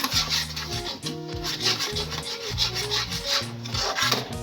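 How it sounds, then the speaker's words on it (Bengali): Ground cumin, turmeric and salt are stirred together in a bowl, giving a rhythmic, close scraping and rubbing with repeated strokes and no voices. "জিরের গুঁড়োটাকে ভালো করে মিশিয়ে নেব।"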